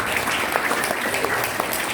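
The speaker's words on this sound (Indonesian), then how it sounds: "Tepuk tangan." Steady audience applause from a crowd at an Indonesian Islamic pesantren religious talk, dense continuous clapping filling the whole stretch with no voices over it.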